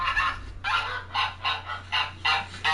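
A goose honks repeatedly in a run of six or seven harsh, nasal calls at a steady rhythm, close and fairly loud, with a low hum underneath.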